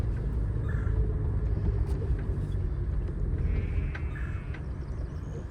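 A truck engine rumbles steadily and close by while being driven, a low continuous drone that holds for the whole stretch with faint bird calls somewhere in the background.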